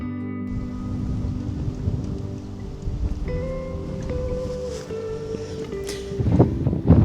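Wind buffets a boat at sea during a windstorm, a steady rushing roar with gusty microphone rumble and scattered splashing, growing louder and rougher at the end, with no talking.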